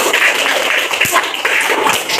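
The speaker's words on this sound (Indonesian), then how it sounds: "Tepuk tangan untuk kita semua." Clapping fills a classroom during a student teaching session at UIN Ar-Raniry Banda Aceh, steady dense applause from a group throughout, close and fairly loud with a few sharper thumps.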